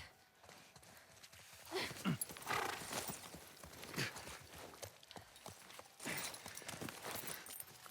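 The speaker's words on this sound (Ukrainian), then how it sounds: "приведи коня" A horse's hooves clip-clop at a walking pace in The Last of Us Part 1, with quiet, uneven hoof falls over a soft ambient background.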